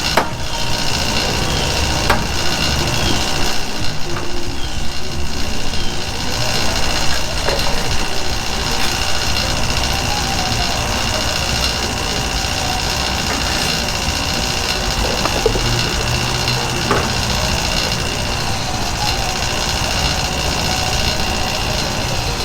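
A loud, steady mechanical drone hums continuously without pause, a vacuum pump running close by on a Toyota Soarer's AC system for the whole stretch.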